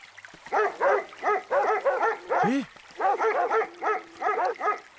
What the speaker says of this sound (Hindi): रोहित, हमारी स्कॉट डॉग